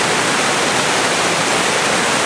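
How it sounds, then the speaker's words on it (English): A waterfall on a hike pours steadily in a loud, dense, unbroken rush of water, close by and with no voices over it. "I wanted to show you the waterfall"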